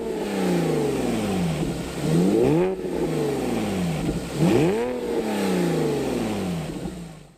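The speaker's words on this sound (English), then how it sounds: "The flat 6 configuration makes a really unique sound." A 2010 Porsche 911 Carrera S (997) with a 3.8-litre flat-six revs up and falls back in repeated sweeping blips. The engine is loud and close, with rising and falling tone and no talking.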